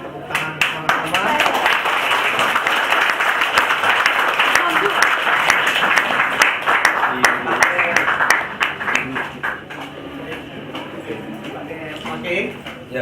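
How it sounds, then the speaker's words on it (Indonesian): At a church children's ministry launch, a crowd breaks into loud, close applause with sharp individual claps standing out. It carries on for over ten seconds while voices murmur underneath, then thins toward the end. "Kita sambut dengan tepuk tangan bersama-sama."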